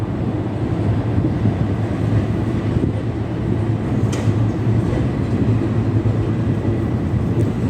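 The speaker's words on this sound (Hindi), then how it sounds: "अरे ट्रेन तो क्रॉस हो गई" A train rumbles past at close range at a station at night, a dense, continuous roar of wheels and carriages with no voices over it.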